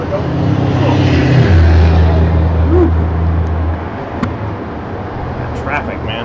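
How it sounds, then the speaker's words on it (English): Loud road traffic rumbling past outdoors beside a spring patio garden, a steady low roar that swells and fades as vehicles go by, with faint speech over it. "That traffic, man, is just loud."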